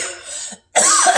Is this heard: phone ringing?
no